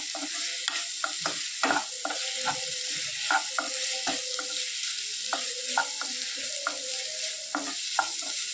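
Bitter gourd sautés with chili powder and tamarind water in a pan, a soft sizzle under repeated clinks and scrapes of a spoon stirring at an irregular pace, close and fairly quiet.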